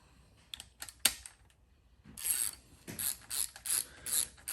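A ratchet turns an 11x125 thread chaser into threads on an EJ257-swapped Subaru Legacy GT, giving close, crisp clicking bursts, first sparse and then in quick regular runs.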